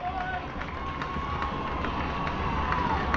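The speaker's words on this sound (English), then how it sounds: "The crowd rises as one." A crowd at a varsity high school football game against West Bloomfield roars together, a continuous, rising cheer with scattered shouts. It is heard at a distance, and a commentator talks over it.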